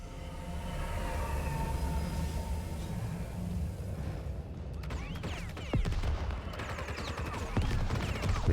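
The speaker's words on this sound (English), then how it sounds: "Tiny little gunfire." Gunfire in the video game Xenoblade Chronicles X breaks out as rapid, crackling bursts over a low steady rumble, growing busier and a little louder toward the end.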